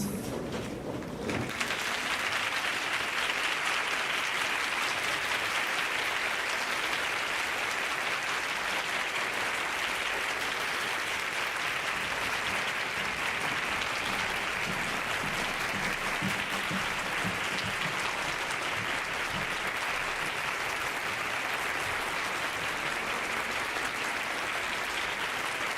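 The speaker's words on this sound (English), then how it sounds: "Please stand up and welcome them with a big round of applause." A hall audience at the Williams Cup closing ceremony stands and applauds, a dense, even wash of clapping that holds steadily for over twenty seconds after a brief opening sound.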